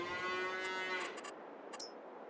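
Cattle moo in a cow stable in Farming Simulator 22, one long drawn-out low call that fades out, followed by a few brief clicks. No one talks.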